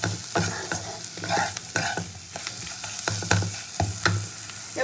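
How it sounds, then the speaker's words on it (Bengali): Ground spices and red chilli powder fry in a pan as they are stirred, making a steady sizzle broken by repeated sharp scrapes and taps of a spoon against the pan. "সব মশলাগুলো একসাথে কষিয়ে নেবো।"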